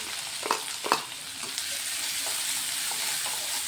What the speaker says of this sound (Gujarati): પછી આપણે ડુંગળીને સાતળી લઈશું.